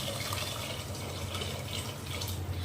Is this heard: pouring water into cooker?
yes